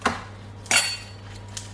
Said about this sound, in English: I'm just chopping it up a bit first